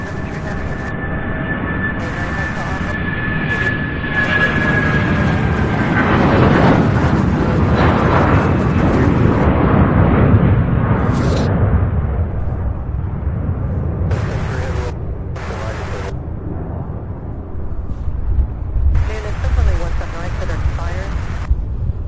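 A Boeing 757 jet at Louisville International Airport gives a loud, rumbling roar that swells and then fades away, with wind buffeting the microphone and a voice talking over the noise.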